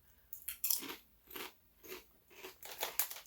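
Mr. Chips potato chips being chewed up close: about five loud, crisp crunching bites spaced roughly half a second apart, with no talk.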